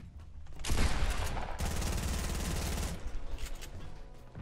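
Another player's gunfire in an online shooter game, a sustained loud burst of rapid automatic shots close by that runs for several seconds, then thins into scattered pops.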